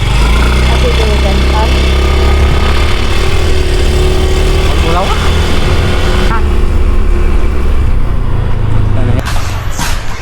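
A motorcycle engine runs loudly and steadily throughout, with a constant rumble and a voice talking faintly underneath.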